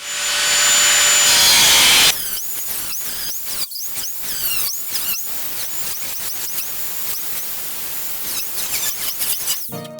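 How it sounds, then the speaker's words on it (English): Cutoff wheel grinding through two layers of a 1965 Mustang quarter panel, a harsh steady whine for two seconds, then a run of rapid stuttering bursts and scraping cuts close by. "I am going to use a cutoff wheel on this"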